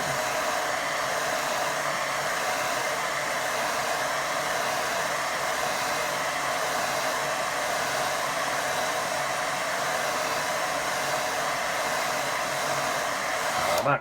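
A hair dryer blows on watercolour paint of sheep on a hillside, a continuous loud, even rushing whoosh running steadily from start to finish with no talking.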